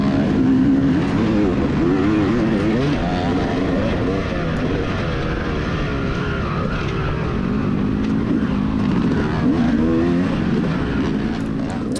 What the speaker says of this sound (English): The Kawasaki up there, Justin's Kawasaki, feels pretty, or sounds pretty mean